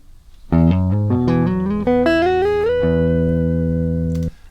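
An electric guitar recorded through a true bypass signal path plays notes that slide upward, then a chord rings out and sustains loudly and cleanly with no voices.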